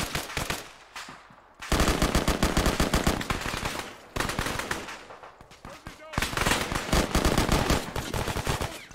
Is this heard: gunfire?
yes